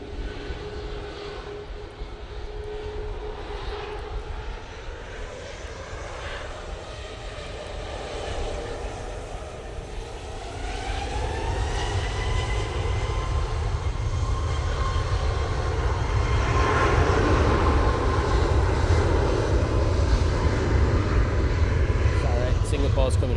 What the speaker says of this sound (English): This Ryanair is going off to Krakow using 737 MAX 8.